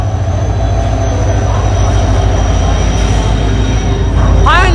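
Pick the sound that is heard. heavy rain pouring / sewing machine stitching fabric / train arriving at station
train arriving at station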